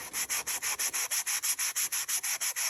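Sanding a drum shell wrapped in figured veneer, a steady run of about fifteen rhythmic back-and-forth abrasive strokes, close and fairly loud, with no talk.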